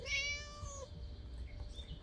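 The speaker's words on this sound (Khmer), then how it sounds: "Naughty cat again." A cat in the Scary Teacher 3D video game gives one clear, drawn-out meow at the start. Quiet game background follows, with no talking.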